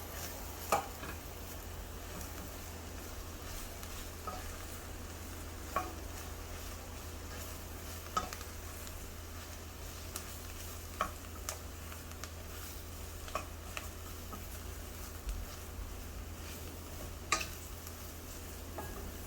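Mushrooms frying with onions in butter for a creamy mushroom soup give off a steady, soft sizzle, broken by occasional sharp clicks and taps of stirring in the pan.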